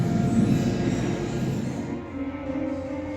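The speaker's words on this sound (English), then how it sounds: "This is the train simulator. This is me pegging it through the tunnel." A simulated train runs through a tunnel in a train simulator at Train World in Brussels, giving a continuous enclosed rumble with faint wheel tones that eases slightly toward the end.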